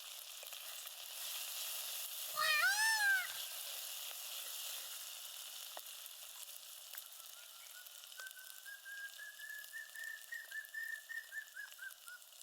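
Cumin, fennel and green masala roast in hot oil with a quiet, continuous sizzle, broken by a short loud whistling burst early on and a thin whistling tone later.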